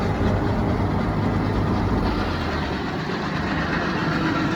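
A 1947 Ford 8N tractor engine idles with a steady low rumble, close and continuous, with no clear shutdown heard.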